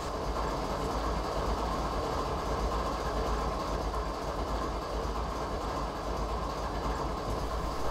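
A running train makes a steady, dense rumble with rolling rail noise, continuous and even at moderate volume with no voices over it.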